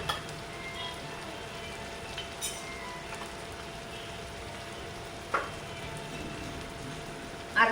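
Red chili powder fries in oil in a kadhai with a low, steady sizzle, broken now and then by a light scrape or tap, close by and with no speech.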